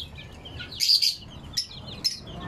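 Small birds chirp in a few bright bursts, one longer flurry followed by two shorter tweets, close by over a low background hum while being fed.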